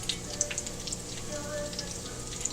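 Fresh cod croquettes fry in a pan over medium-high gas heat, a continuous soft sizzle dotted with small pops and crackles, quiet and close.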